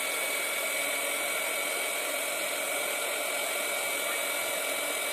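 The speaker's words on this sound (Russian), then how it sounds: "Фен." A hair dryer used in scrapbooking blows with a steady, loud whooshing roar and a high whine, running continuously without pause.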